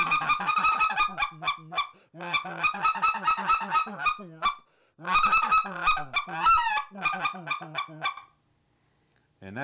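Redbone goose call blown by a hunter in rapid clucking runs imitating geese feeding in a field, loud and close, with bursts of quick honking notes separated by short pauses.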